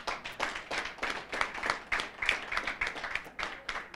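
Audience at a learning conference clapping in thanks, a brief patter of scattered hands at modest volume, uneven in rhythm, from a fairly small crowd.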